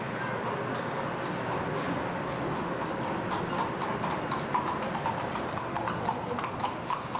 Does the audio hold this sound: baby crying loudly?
no